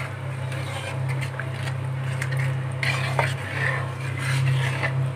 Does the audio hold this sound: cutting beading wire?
no